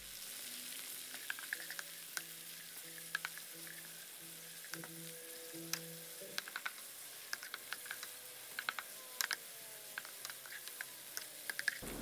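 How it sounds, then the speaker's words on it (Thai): Pork pieces with garlic stir-fried in a pan, sweet-and-sour dish in progress: a steady close sizzle with frequent small clicks and scrapes of a utensil stirring, no talk. "ขั้นตอนนี้นะครับให้เราใส่หมูชิ้นลงไปนะครับหมูชิ้น150กรัมแล้วก็ให้เราผัดหมูร้อยสุกเลยนะครับ"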